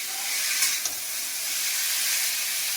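Shredded banana stem frying in a pan makes a soft, steady hiss of sizzling oil, close and even, with a faint clink or two.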